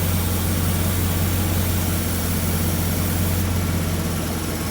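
A Lincoln Town Car engine idles steadily with a low, constant hum and a broad hiss over it, close and unbroken, with no voices.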